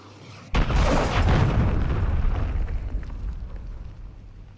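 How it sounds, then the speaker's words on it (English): A cruise missile blast in the Call of Duty Modern Warfare III video game hits as one sudden loud boom, then a long rumbling roar that slowly fades over several seconds, with no voices. "Hostile launched a cruise missile."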